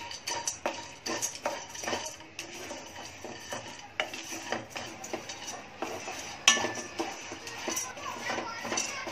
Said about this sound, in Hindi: पहले बादाम डालूंगी, वो थोड़े भून के लूंगी।